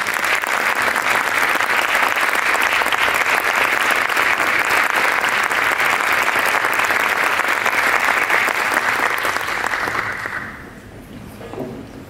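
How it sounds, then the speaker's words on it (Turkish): A concert audience at a Turkish classical music concert applauds to welcome the conductor on stage, dense sustained clapping that fills the hall for about ten seconds, then fades and thins out toward the end. "Konserimizi yönetmek üzere Şef Fahri Dibekoğlu'nu alkışlarınızla sahneye davet ediyorum."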